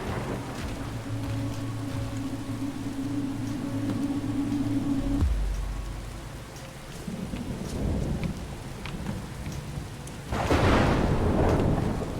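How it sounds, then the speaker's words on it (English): Thunderstorm in the video game Skyrim: steady rain on surfaces with deep, rolling thunder rumbles, including a loud close crack near the end, no talk. "that thunder"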